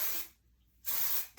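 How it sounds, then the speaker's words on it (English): A hair product spray is applied to the ends of curly hair in two short, close hissing bursts separated by a brief silence. "So this, I basically just spray in"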